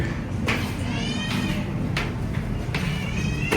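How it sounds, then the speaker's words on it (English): Cats meow inside a house that holds many of them, a few short, faint cries scattered across a steady background hum, with no talking. "Cats का आवाज था क्या वो?"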